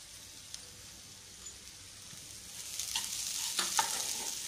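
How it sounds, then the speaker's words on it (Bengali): Soft scraping and a gentle sizzle as sweetened patishapta filling with melting sugar and cardamom is stirred lightly by hand in a pan, starting quiet and growing louder and busier toward the end. "আমি হালকা হাতে নাড়ছি"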